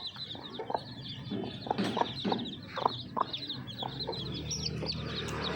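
A hen clucks repeatedly in short, uneven bursts nearby while warning her chicks, with fainter chirping birds in the background.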